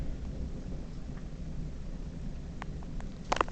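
A thunderstorm with pouring rain gives a steady, dense rush of rainfall, with low rumbling beneath it and a few sharp crackles near the end.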